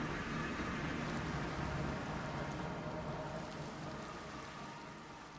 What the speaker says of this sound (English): You think you're being funny by making it rain, but you're not.